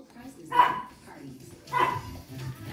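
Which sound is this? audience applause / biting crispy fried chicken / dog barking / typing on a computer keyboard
dog barking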